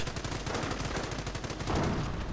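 Sustained machine gun fire in a World War II real-time strategy game, a dense rapid rattle of shots that continues without pause through the short stretch, loud and close with no talk over it.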